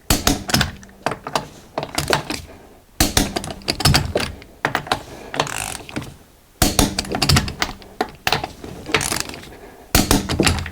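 Bursts of sharp mechanical clicks and clunks from a torque wrench tightening the front brake caliper bolts on a 2013 Mercedes Sprinter van come in four distinct groups separated by short pauses, close and fairly loud, with no talking.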